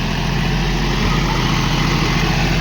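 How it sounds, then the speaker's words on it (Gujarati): A tractor engine idles steadily up close, a constant low chugging drone with no change in pace. "ટ્રેક્ટર ઉભું રાખ્યું બંધ કર દે હવે બંધ કર"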